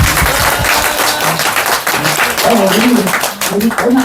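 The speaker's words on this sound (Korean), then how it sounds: "이 두 분께 큰 박수 올립니다." Applause from a church congregation rises in a dense burst of clapping, then continues underneath as someone speaks loudly over it.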